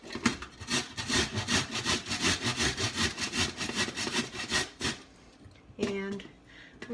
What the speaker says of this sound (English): So we just grate all of these carrots.